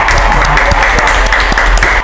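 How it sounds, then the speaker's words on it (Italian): Steady, loud studio applause welcomes bodybuilder Luigi Laudisio onto an Italian talk show, a dense wash of many hands clapping continuously with no voices over it. "un grande applauso"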